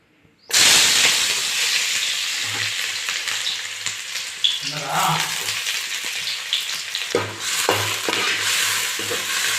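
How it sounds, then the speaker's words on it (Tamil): Onions dropped into hot oil for a crab gravy burst into a loud, close sizzle after a brief silent start, then keep hissing steadily while a utensil stirs and scrapes the pan at intervals. "எண்ணெய் நல்லா காஞ்சிடுச்சு இப்போ நம்ம வந்து வெங்காயத்தை வந்து சேர்த்துக்கலாம்"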